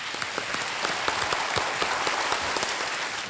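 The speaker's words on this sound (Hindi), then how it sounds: "तालियां बज जाएं इनके लिए।" A studio audience on the Hindi quiz show Kaun Banega Crorepati claps for the contestants. The applause is a dense, continuous roar of many hands that holds at a steady level and fades slightly at the end.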